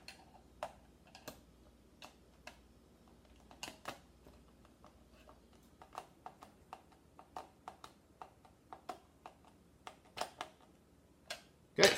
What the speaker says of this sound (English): Use the screwdriver that they provide, which works with all of their screws